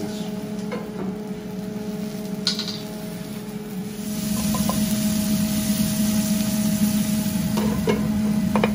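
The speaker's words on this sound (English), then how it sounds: "every 30 seconds or so, give it a nice little stir" Vegetables and bacon stir in a hot pan, a steady sizzle of frying carrying scraping and clacks of a utensil against the pan, growing louder and denser halfway through as the stirring continues, close by with no talk.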